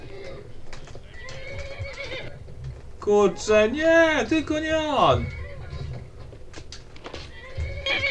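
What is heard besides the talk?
horse Shadowmere neighing in Skyrim video game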